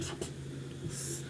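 Marker or chalk scrapes across a classroom board during a Class 10 Hindi-medium maths lesson, a few short squeaky strokes close by over a low room hum.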